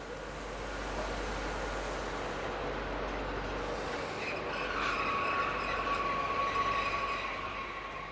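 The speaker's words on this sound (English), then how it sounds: "The anticipated BB 67400 diesel on the 637 arrival from St. Paul actually turned up with a new X76500 unit." New X76500 diesel multiple unit arriving from St. Paul on a French commuter line, a rolling rumble that builds, then a sharp, sustained wheel squeal as it slows.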